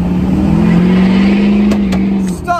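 A farm vehicle's engine revving loudly and steadily on its own for a couple of seconds, then easing off as a voice begins to speak.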